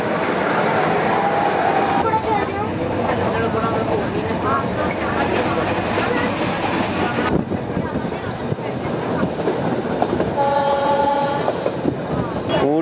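Nilgiri Mountain Railway toy train running through a tunnel out of Ooty, a loud continuous rumble of wheels and carriages with rhythmic clatter, faint horn-like tones and people talking over it.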